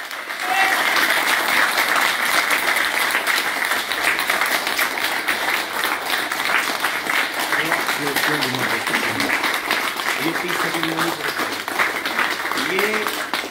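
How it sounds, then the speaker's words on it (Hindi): Loud, sustained applause from an audience at an Ayurvedic hospital event in Lucknow, with many hands clapping steadily throughout and a voice speaking over the clapping toward the end. "तालियां अच्छे से बजनी चाहिए"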